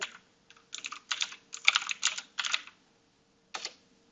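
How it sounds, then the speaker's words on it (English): Close typing on a computer keyboard: quick clusters of crisp keystrokes with short gaps, then a pause and one final key press. "So type in your subdomain and your website."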